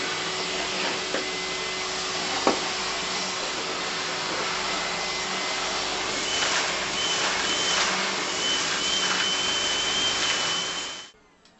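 Shop vacuum fitted with a cyclone separator and HEPA filter, running with a steady loud whining roar that holds for about ten seconds and then winds down at the end.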